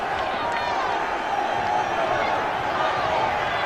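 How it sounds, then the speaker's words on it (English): A football stadium crowd at an FA Cup fifth-round tie applauds the fans, a dense, distant wash of clapping and crowd noise that holds steady throughout. "Applause for the fans,"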